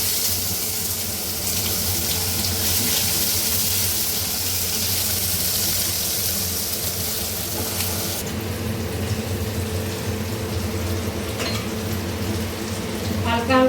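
Onions frying in a pan with cinnamon and bay leaf for an egg curry, a broad, even hiss running throughout, fairly loud and close, easing slightly toward the end.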